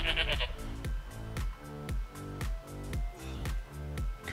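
In theHunter: Call of the Wild, a hog deer buck in Australia calls with loud, close bleats repeated steadily about twice a second.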